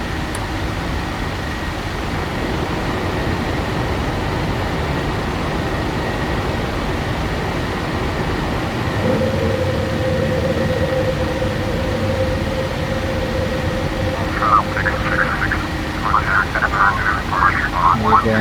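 Jet engines of a PMDG Boeing 737-700 in the Prepar3D flight simulator roaring steadily through the takeoff climb, a loud continuous broadband rumble with a tonal whine joining partway and a few brief clicks near the end.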